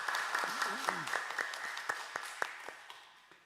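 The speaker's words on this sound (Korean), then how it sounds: "우리 하나님께 감사와 영광의 박수 올려드리시겠습니다" A church congregation claps during a Sunday worship service, giving thankful applause to God; a short spell of moderate, somewhat scattered clapping that thins out and fades, with faint voices mixed in.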